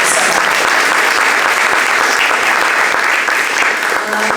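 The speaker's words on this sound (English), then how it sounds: "I would love everyone to just join me in a round of applause for all of our wonderful speakers." Loud, dense audience applause at a school showcase of personal stories, sustained and even throughout, with a faint voice underneath.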